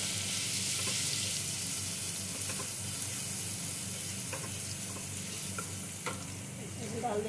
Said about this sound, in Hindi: ऑयल हमारा गर्म हो गया, थोड़ा सा डाल देंगे गार्लिक